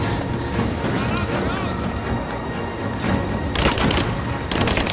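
Gunfire and a grenade blast in the video game Rise of the Tomb Raider: dense, overlapping shots and a heavy burst near the end, with people talking over the action.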